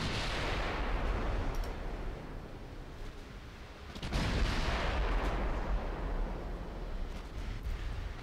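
Naval guns of the warship Magon firing in a dreadnought-era naval game: a continuous rumbling barrage of heavy booms, with a fresh loud blast around the midpoint followed by rolling, dense low thunder; no voices.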